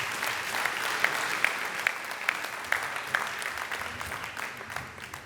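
An audience at a reggae awards ceremony applauds reggae artist Iba Gueye Massa, a steady wash of clapping punctuated by sharper accented claps roughly every half second, moderately loud and gradually thinning.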